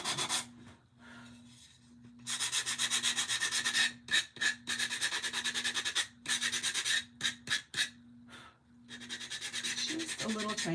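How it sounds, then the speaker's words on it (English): Sandpaper rubbing the edges of a Dollar Tree craft sign, with close, steady scratchy strokes in bursts separated by short pauses and a faint steady hum underneath. "these Dollar Tree signs are usually really easy to sand the edges and"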